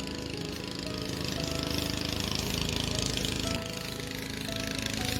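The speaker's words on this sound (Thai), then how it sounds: "ตกใจเสียงเรือ" A loud, steady engine rumble with rapid mechanical knocking runs throughout, shifting slightly in pitch partway through, close by.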